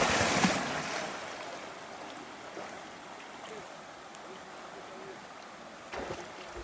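A river flowing, heard as a broad steady wash of moving water with a rushier swell at the start, fairly close, with a brief splash near the end.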